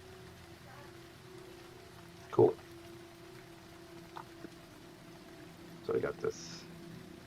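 A soft, steady rain ambience plays in the background of a tabletop game session while people talk over it, with a few brief knocks and clicks.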